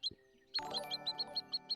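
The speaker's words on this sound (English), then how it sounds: "This is the sound of a teeter peep." Spotted sandpiper (teeter peep) call from the Wingspan board game, a brief click followed by a quick series of about eight high, sharp peeps in steady rhythm, clear and alone.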